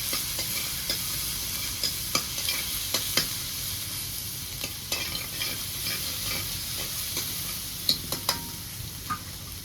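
Ginger, garlic and chili paste sautéing in hot oil for an Agri-style non-veg thali: continuous close sizzle with scattered spoon scrapes and taps against the pan, no voices.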